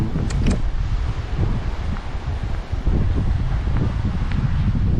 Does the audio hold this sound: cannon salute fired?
no